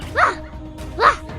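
A cartoon character voice in the Talking Pocoyo mobile game imitates a dog, giving two short, loud yapping barks about a second apart with a brief pause between them.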